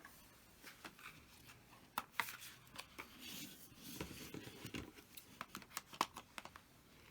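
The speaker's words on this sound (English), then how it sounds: "I think my scissors is too big" Close, crisp scissors snipping and rustling of plastic packaging on a two-piece makeup set, with scattered sharp cuts and crinkles over several seconds.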